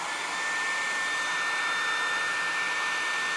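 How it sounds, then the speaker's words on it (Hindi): Two hair dryers run together on a 6 kW solar inverter, a loud, steady, unbroken whooshing blower hiss that holds constant throughout with no voices. "हेयर ड्रायर्स हैं, इनको भी मैं साथ ही ऑन कर देता हूँ।"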